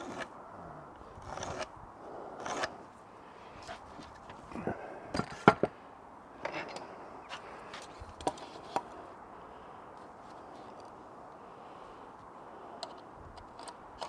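Wood pieces are cut to the same length, with irregular sharp chopping and clicking knocks spread across a quiet workshop background, some louder strikes standing out amid softer ticks.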